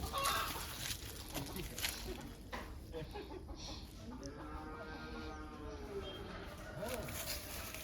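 A chicken clucks in short bursts amid household background noise, with a person talking nearby over the bird's calls.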